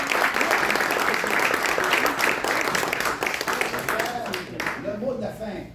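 Applause from a conference audience at an international-affairs gathering, a dense wash of clapping that fills most of the stretch before thinning out, with a voice starting to speak near the end.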